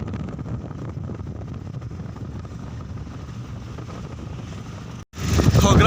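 Wind roaring steadily past riders in the open back of a moving tempo van, a constant buffeting rush that cuts out abruptly near the end, followed by a louder burst of noise.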